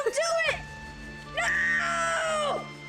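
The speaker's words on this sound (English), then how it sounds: "Ooh, that was a good scream." A character's shrill, drawn-out scream from the Fullmetal Alchemist PS2 video game, rising in two loud cries with a short gap between them, set over steady in-game music.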